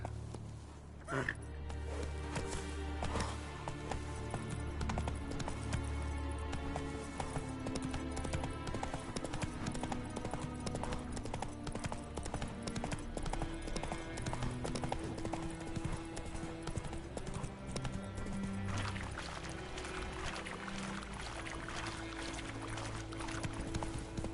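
Hoofbeats of the horse Roach galloping in The Witcher 3, a steady rapid clip-clop under game music and effects, with a voice speaking over it.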